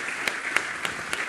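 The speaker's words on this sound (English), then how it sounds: "a big round of applause for Karen Kovar" Short, sparse clapping from an audience at an academic relief session, a few distinct claps spaced out over a faint background.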